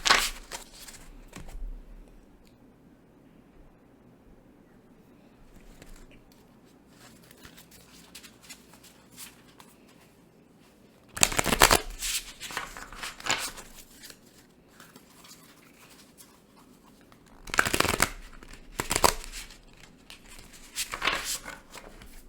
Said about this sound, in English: let's just shuffle the deck and see what comes through right now